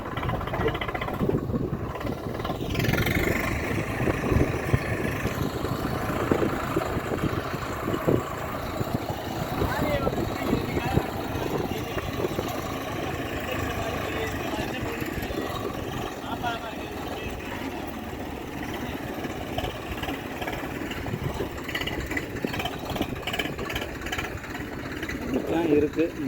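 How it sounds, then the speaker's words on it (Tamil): A tractor engine runs steadily through a wet paddy field during harvest, a continuous labouring rumble that stays fairly close throughout, with a person talking over it. "டிராக்டர் எப்படி வருது"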